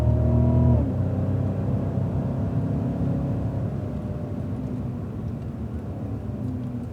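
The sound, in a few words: Cadillac CTS-V accelerating on a race track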